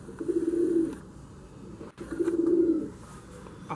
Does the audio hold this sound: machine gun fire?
no